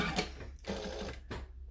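Sewing machine stitching a short sleeve seam on a McCall's M7314 dress, fabric placed right sides together; close, steady mechanical whirring in two bursts with a brief pause between.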